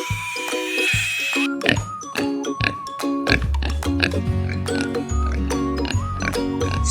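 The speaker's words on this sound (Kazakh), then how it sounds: "Шошқа." A pig grunts and oinks several times in short bursts, heard up close over bright background music in a children's animal quiz.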